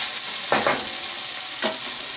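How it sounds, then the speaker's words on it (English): Potatoes and onions cook in a pan, a constant close sizzle with two quick spatula stirs about a second apart. "mix it well and cook till the potato and onions gets fully cooked"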